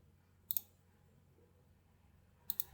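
Calculator keys clicked while a measurement is entered during sewing pattern drafting: two short bursts of crisp, close taps about two seconds apart, with quiet pauses between them and no talking.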